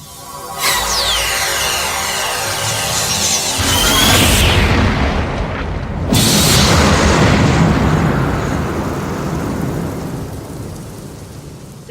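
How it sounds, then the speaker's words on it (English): Two explosions in a Star Trek audio drama, a smaller blast followed by a bigger one from a converter machine, each bursting loudly and trailing off into a long, rumbling roar. "There's one small explosion and then a bigger one."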